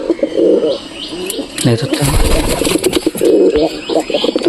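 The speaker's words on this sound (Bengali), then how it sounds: "এই দেখো পায়রিটা," Pigeons coo in a coop. Soft repeated coos sound close by, mixed with a few chirps. A person speaks briefly in the middle.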